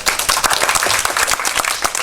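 Loud, dense applause from a crowd at the opening of an Indonesian architecture exhibition, steady clapping filling the whole moment.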